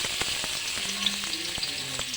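Garlic going into a pan for an ampalaya, tomato and egg dish, crackling in a steady, close sizzle with scattered sharper pops and light stirring, heard without talk.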